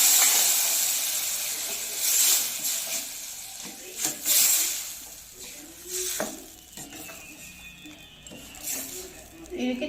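Mixed kuzhambu poured onto sautéed onions and garlic hisses and sizzles in bursts, with clatters of a spoon and pan, partly under a speaking voice.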